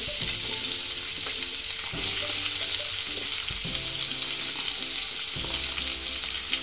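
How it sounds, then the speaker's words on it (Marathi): Two onions fry in oil left over from browning cashews for a kaju curry. The sizzle is steady and loud, broken by scraping stirs every second or so, and no one speaks. "आपण याच तेलामध्ये कांदा भाजून घेणार आहोत दोन कांदे"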